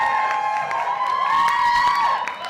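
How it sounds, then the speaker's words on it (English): Comedy show audience screeching as loudly as possible, a sustained shrill crowd scream with overlapping shrieks and cheers that stays loud and continuous throughout. "they have to let you know how into it they are by screeching as loud as possible"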